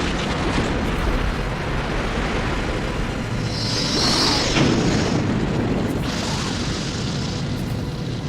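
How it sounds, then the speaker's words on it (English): Linked explosive charges detonate together in an anime battle, a dense, loud rumbling blast that swells around the middle and sustains with a roaring, noisy texture throughout. "Detonate the explosives!"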